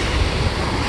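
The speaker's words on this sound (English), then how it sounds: "so this is Ocean View Beach, Norfolk, Virginia." Surf rolls steadily at Ocean View Beach in Norfolk, Virginia, a continuous close wash of waves mixed with wind noise on the microphone, with no voices.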